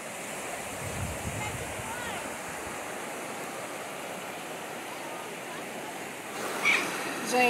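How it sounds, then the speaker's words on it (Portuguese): Water from a waterfall flows steadily in a stream near Salesópolis, a constant broad rushing wash that stays even and moderately loud, with a brief rustle near the end. "Provavelmente essa água pode ser a que passa lá na outra cachoeira que a gente acabou de passar da Porteira Preta, né, Cleiton?"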